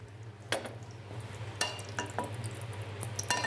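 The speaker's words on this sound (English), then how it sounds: "Olive oil into the pan." Olive oil is poured into a hot, smoking pan, producing a soft sizzle with a few sharp bursts of crackle over a low steady hum.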